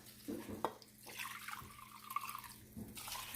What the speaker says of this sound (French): je vais le remplir 5 fois d'eau chaude